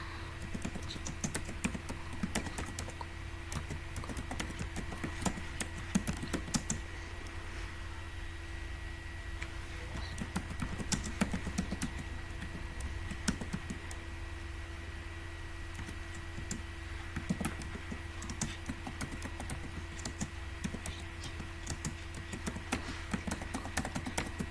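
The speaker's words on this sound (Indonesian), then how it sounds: "Kita ketik saja di sini." Continuous typing on a computer keyboard, close and fairly quiet, an uneven patter of key clicks over a steady low electrical hum, with no talking.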